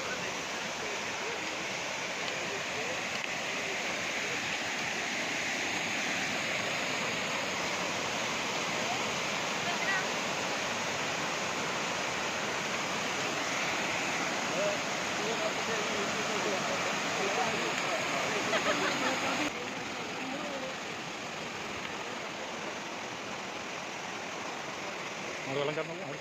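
A waterfall on the Agasthyarkoodam trek rushes in a loud, continuous roar of falling water that stays steady and unbroken throughout, close by and with no other sounds standing out above it.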